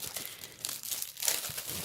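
Thick A4 mirror cardboard sheets in metallic colours are handled near and loud, giving a steady run of crinkling and crackling with a few tearing-like bursts, and no one talks.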